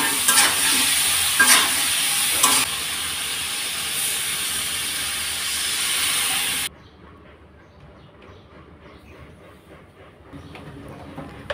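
Fish and jackfruit seeds sizzle loudly in a pan with occasional stirring scrapes, then the hiss abruptly drops to a much quieter, softer fry.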